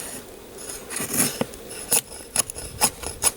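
Sharp, scraping strokes of a knife blade carving feather sticks from hard, frozen wood, a handful of distinct rasping cuts with short pauses between, close and fairly quiet.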